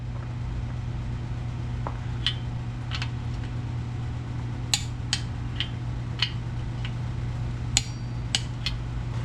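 A half-inch drive torque wrench ticks and clicks on engine bolts, the sharp metallic clicks scattered irregularly over a constant low hum in a workshop, with no one talking.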